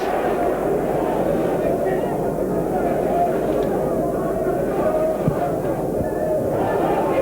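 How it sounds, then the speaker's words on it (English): A football crowd in a packed stadium roars and shouts steadily for a penalty during a Sunderland versus York City match, a dense, continuous wall of voices throughout. "The crowd are not so convinced, they're shouting for one"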